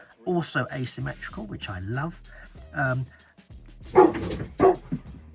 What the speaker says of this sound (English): Excuse the dog barking there